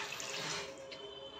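Water pours steadily into paneer masala cooking in a pan, a continuous close splashing stream that lasts the whole moment with no talk.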